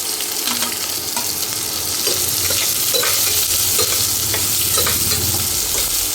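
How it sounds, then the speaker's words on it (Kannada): Chopped onions fry and sizzle in a pan while being stirred, a steady close crackle with scraping stir strokes throughout, no talking. "ಈರುಳ್ಳಿ ಸ್ವಲ್ಪ ಫ್ರೈ ಆಗಬೇಕು."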